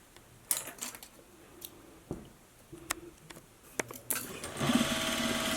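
A sewing machine stitches a fabric face mask in short, quiet bursts separated by clicks and handling noises, then runs a little longer toward the end.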